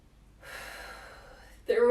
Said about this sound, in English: So take a big breath in, big breath out.